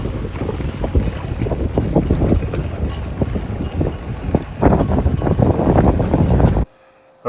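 Strong, gusty wind buffets the microphone on the deck of a 2003 Hunter 386 cruising sailboat on a blustery day, steady roaring bluster with sharp gusts and faint water sounds, then cutting out abruptly near the end.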